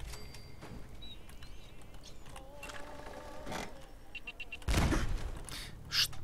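A sudden loud explosive burst from a video game around the middle, followed by a second sharper blast, over background game noise and low talk.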